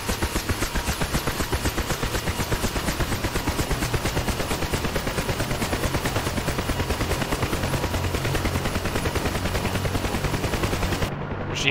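Helicopter gunfire in a video game: sustained rapid machine-gun bursts firing continuously and loudly for nearly the whole stretch before cutting off abruptly at the end.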